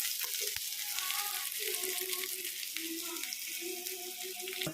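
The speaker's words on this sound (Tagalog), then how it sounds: "Magisa ng panakot." Aromatics sautéing in a frying pan for a corned beef and string bean dish, a loud, steady sizzle with occasional stirring scrapes and faint tonal clinks underneath.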